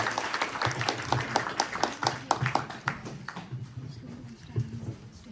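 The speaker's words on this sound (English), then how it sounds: "With a big round of applause" Audience applause welcoming a speaker at a South Asian heritage event in Wales, a burst of distinct hand claps that gradually thins and fades out.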